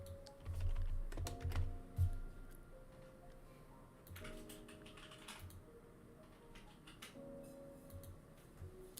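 Computer keyboard typing, with bursts of clicky keystrokes up close, alternating with pauses and lighter taps, faint background hum throughout.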